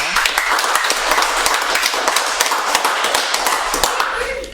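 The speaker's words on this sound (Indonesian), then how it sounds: "Tepuk tangan untuk kita." An audience at a discussion event for the feature film "Believe" breaks into clapping, a steady patter of many hands at fairly close range that keeps going throughout and fades slightly at the end.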